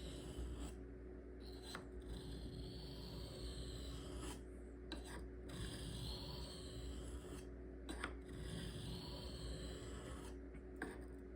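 A knife blade drawn freehand across a sharpening stone in a continuous low rasping scrape, steady strokes with brief pauses between passes, close and quiet.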